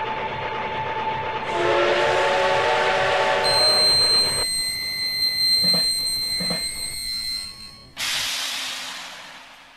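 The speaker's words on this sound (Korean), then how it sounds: "시간 열차가 멈췄어." Time train from a video game event coming to a stop, a loud continuous train rumble with a sustained whistle tone, shifting in layers and ending with a sudden hissing burst.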